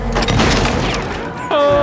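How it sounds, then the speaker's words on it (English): A gunshot in the video game Little Nightmares 2, a heavy booming blast that rings on and then falls away, followed by a sudden sharp sound, with a voice reacting over it. "Oh my god, he fucking shot me."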